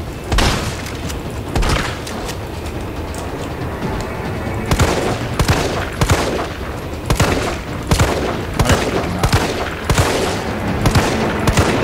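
Gunfire in the Resident Evil 3 remake video game, with loud, separate shots and booming blasts spaced at an irregular rhythm, growing steadier and more regular in the second half, with no talking.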